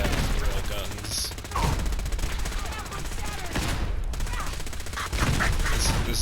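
Heavy gunfire fills a Fallout 4 firefight: rail guns and other weapons fire in dense overlapping bursts with crashing impacts, loud and continuous apart from a brief dip, with a voice talking over parts of it.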